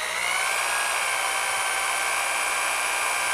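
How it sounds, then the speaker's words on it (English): A power drill bores steadily through carpet into a wooden floor joist, a continuous high whine with no pauses, loud and close. "I keep drilling, it's still solid"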